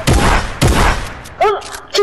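The pirates' gun fires in Fortnite, loud and close. Two heavy booming blasts ring out about half a second apart, followed by shorter bursts mixed with game effects.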